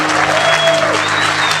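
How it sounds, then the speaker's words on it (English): An audience applauds a speaker as he is brought on stage for a talk, dense loud clapping filling the whole moment without pause. "Let's get on your feet for the man, Keith Kalfas!"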